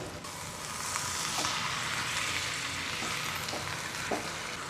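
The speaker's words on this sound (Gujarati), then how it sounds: "હવે આપણે બધું જ મિક્સ કરી લઈએ." Sizzling of pizza stuffing with soy sauce in a hot pan, with occasional scraping clicks of a spoon stirring, steady and close, with no voices.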